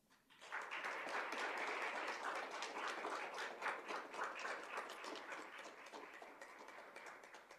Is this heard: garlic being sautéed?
no